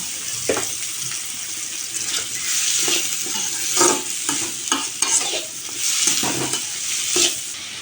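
Onions and green chillies sizzle steadily in hot oil left in the pan after frying fish, with a continuous close frying hiss broken by repeated scraping strokes of a stirring spoon.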